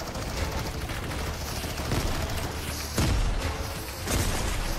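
Gunfire in the Fortnite video game during a Bed Wars match, a dense, continuous fusillade of shots with a few heavier bursts standing out, loud and close throughout with no talking.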